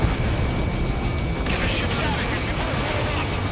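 Oil pipeline explosions in the Ace Combat 7 video game, a dense rumbling barrage of booms and blasts, loud and continuous, with noise swelling further partway through.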